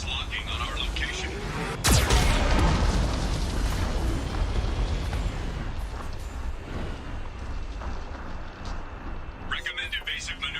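A Geth cannon fires in Mass Effect 2 with one sharp, heavy boom that rolls into a long, loud rumble. A synthetic voice speaks over the noise, and a burst of bright chirping returns near the end.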